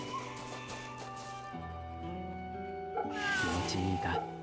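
A cat in Fate/Samurai Remnant meows softly while a child pets it, short tonal cries rising over gentle background music, with a brief louder mewing burst near the end.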